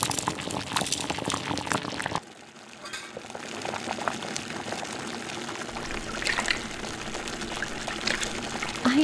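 A second seasoning pack goes into a pot of boiling Nissin spicy seafood ramen. A brief pouring rush comes first, then a steady, softer bubbling simmer continues close by with no talk.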